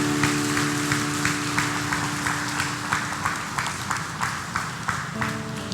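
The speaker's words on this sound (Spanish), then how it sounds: "Dale un aplauso a nuestro Dios." A church congregation at a Spanish-language Sunday service applauds steadily, a dense wash of clapping with a faint regular pulse and a sustained organ or keyboard chord underneath.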